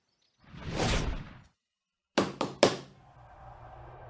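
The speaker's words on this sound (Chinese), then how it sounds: "殿门被拉开又被拉上，因为用力过大，砰的巨响" A heavy palace door is swung open and then slammed shut, with a whooshing swing followed by a quick cluster of loud, sharp bangs and a brief lingering rumble.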